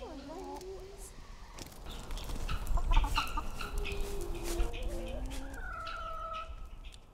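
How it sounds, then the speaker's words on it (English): Hens cluck and call around a farmyard, several birds overlapping in short bursts at moderate distance over steady outdoor background noise, with a voice speaking briefly. "The hen department's actually headed up by Paxman, who's a rescue"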